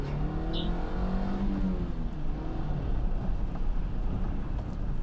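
A Toyota Camry Solara coupe with a 136-horsepower engine accelerates, giving a steady, continuous drone and a rising note early on, heard from inside or near the car with no speech.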